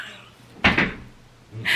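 A chair slips and knocks with one sharp wooden clack and a brief rattle, close and loud against a quiet room, followed by a softer scrape at the end.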